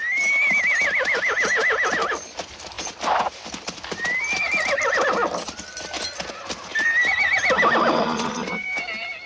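Several horses neigh loudly three times in a Western film scene, each whinny rising and wavering. A busy, fast clatter of hooves runs underneath throughout.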